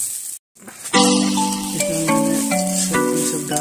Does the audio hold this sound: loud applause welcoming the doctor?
no